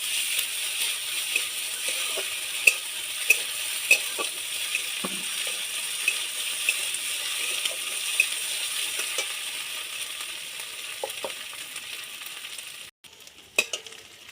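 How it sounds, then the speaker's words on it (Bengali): A quiet, continuous sizzle rises as chopped onion fries with ginger-garlic paste for a banana and potato bara curry, with faint scattered clicks and taps of a utensil against the pan, before the sound briefly cuts out near the end. "পেঁয়াজ কুচি একটু ভালো করে ভেজে নেবো এর মধ্যে আদা রসুন বাটাটা দিয়ে দেবো"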